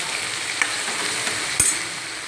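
Onions, capsicum and other chopped vegetables frying in a pan for Gujarati-style fried rice, a steady close sizzle with a couple of brief clinks from stirring.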